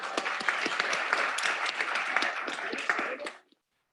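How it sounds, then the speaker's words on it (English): A debate audience gives a round of applause, lively clapping from a sizeable crowd that holds steady, then quickly dies away into silence near the end. "I want you to give another round of applause before we know the results"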